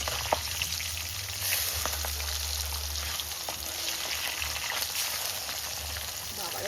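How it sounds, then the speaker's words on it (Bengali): Pabda fish fry in oil in a pan, a loud close crackling sizzle running continuously with sharp pops, heard on its own without speech. "পাবদা মাছটা খুব কড়া করে ভাজা লাগে না,"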